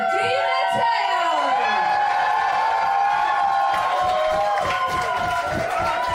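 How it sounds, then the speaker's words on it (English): A wrestling crowd cheers and shouts steadily for Laura Di Matteo, an Italian wrestler from Rome, at a women's wrestling event, the loud continuous roar rising and swelling with whistles and excited voices throughout. "And as you can hear from that crowd"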